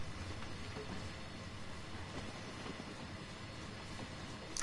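A long freight train rolls along in the Train Sim World video game, producing a steady, continuous rumble with faint rhythmic clatter and no talking.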